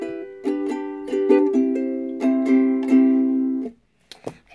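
A ukulele strums a series of chords in a steady rhythm, bright and close, then stops and leaves a few faint handling knocks.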